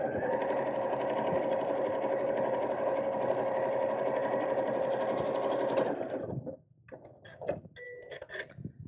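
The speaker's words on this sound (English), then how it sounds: "fold this out of the way and sew straight down" A sewing machine runs steadily, sewing a straight seam on a fabric purse organiser for about six seconds, loud and close, then stops and gives way to a few short clicks and handling sounds.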